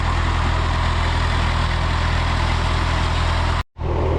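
A tractor idles on a beach during net fishing at Chaf, Langarud, in Gilan, northern Iran. The low engine rumble is steady and close and runs alone, with a brief dropout near the end.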